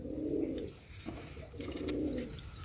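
Pigeons cooing close by, including a young Giribaz racing pigeon, in two soft, rolling low coos separated by a short pause, with faint higher chirps in the background.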